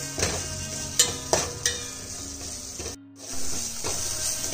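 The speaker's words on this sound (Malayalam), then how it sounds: "നമുക്ക് ഈ സമയത്ത് നമ്മുടെ മുരിങ്ങയില ഇട്ട് കൊടുക്കാം. നന്നായിട്ട് ഇളക്കി കൊടുക്കാം." Moringa leaves stirred into biryani kanji frying with tomatoes in a pan, a soft steady sizzle broken by a few spoon scrapes and knocks, close and moderately quiet.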